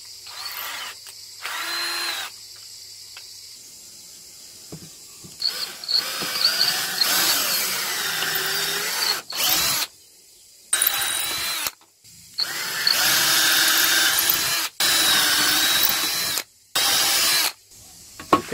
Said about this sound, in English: What I'll do now is I'll put my drill bit in.